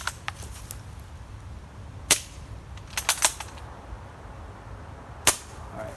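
Airsoft Mosin rifle shots in the woods: a few sharp, isolated cracks spaced seconds apart, including a quick cluster of three, over quiet outdoor ambience.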